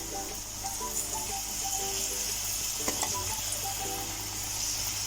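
Potatoes frying in oil, a steady soft sizzle and crackle with faint occasional stirring, quiet and continuous.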